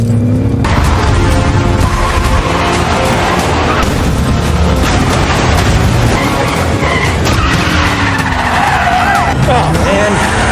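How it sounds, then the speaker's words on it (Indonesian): A car skids with squealing tires and crashes into a parked Honda Mio Sporty motorbike, loud and close, with impact noise and voices talking throughout. "Grace yang tidak bisa naik mobil malah menabrak motor Honda Mio Sporty yang sedang"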